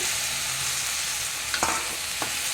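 Chopped tomatoes are stirred into a frying pan, a soft constant sizzle under a few quick scraping knocks of a spoon near the end, close and moderately quiet, with no talking.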